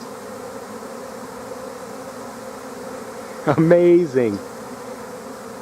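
A swarm of bees gathers around a nest cavity in a house, their dense steady buzzing droning through the whole stretch, with a man's brief spoken word near the end.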